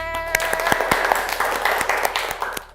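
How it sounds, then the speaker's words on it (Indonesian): A classroom of students clapping together, a close, busy patter of hand claps with a few sharper individual claps standing out, steady for a few seconds. "Tepuk tangan untuk semuanya."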